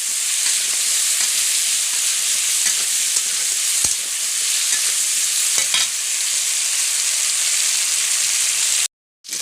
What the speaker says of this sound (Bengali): তো আমি ভালো করে এটা খুন্তির সাহায্যে মিশিয়ে নেব।